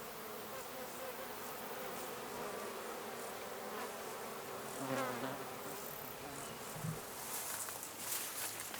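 Bees and bumblebees buzz steadily around the listener in a garden, a soft continuous drone with a few individual insects passing closer, faint and outdoors.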